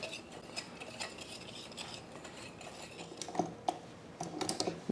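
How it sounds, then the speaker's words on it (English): A whisk stirs baking powder, baking soda and salt together in a bowl, giving a steady run of quick, light scraping and ticking against the sides, with a few sharper taps near the end. "Then we need baking powder, baking soda, and salt. And then we can whisk."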